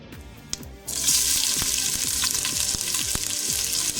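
Cinnamon, cloves, cardamom, pandan leaves and bay leaves frying in oil for mutton dalcha, a quiet start then a sudden loud, dense sizzle that holds steady, with faint tapping underneath.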